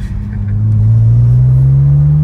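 A BMW 330Ci E46 engine revs loudly and close, its drone climbing steadily in pitch as the revs rise past 4,500 rpm.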